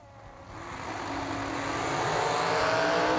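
Winged and wingless drag racing dragsters at a racetrack, engines roaring with a broad rising rush that builds steadily louder over a few seconds, heard from a distance.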